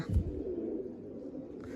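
Large pigeons give a low, continuous coo close by, a soft rolling murmur that runs for under two seconds.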